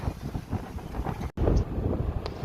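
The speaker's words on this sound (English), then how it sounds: "Dude, this place is fucking windy as fuck right now." Strong wind at a beach where big waves are being surfed, buffeting the microphone in a loud continuous rumble with a brief dropout midway.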